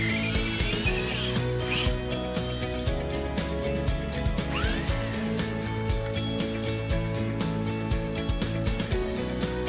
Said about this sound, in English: This grade of boron drills all the way through very easily